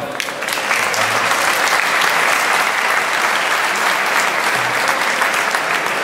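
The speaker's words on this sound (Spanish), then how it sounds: "Vamos a darle un fuerte aplauso." Audience applause for a speaker at an academic talk on criminal policy, starting a bit thin and swelling into steady, full clapping that carries on evenly and close.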